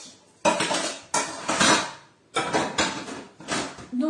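Lid set onto a cooking pot of winter vegetable curry, several close metallic clanks and scrapes of the cover and utensils in separate bursts with short quiet gaps between.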